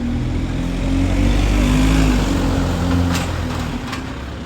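An Alexander Dennis Enviro 200 bus engine rumbles past nearby in Ipswich, swelling louder in the middle and then easing off as it moves away.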